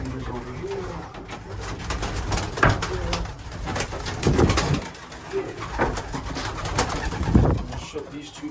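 Racing pigeons coo inside a drop trap, several soft, throaty coos rising and falling close by, mixed with faint rustling and wing movement.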